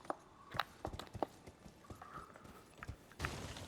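Horse hooves clop in an irregular trotting rhythm in the video game Elden Ring, several sharp hits close up, with a faint hum in the background.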